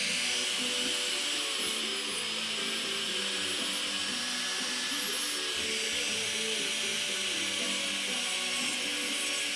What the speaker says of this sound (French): Déjà, la ponceuse, elle fait pas mal de bruit.